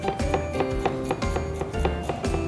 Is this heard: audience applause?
no